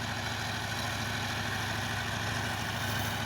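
A T-150 tractor engine pulling a PLN-5 plough at the start of ploughing, a steady unbroken diesel drone with a low rumbling throb, close and constant, without talk.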